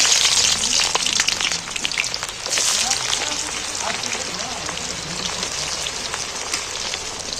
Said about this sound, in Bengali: পেঁয়াজগুলো গরম তেলের উপরে তুলে দিচ্ছি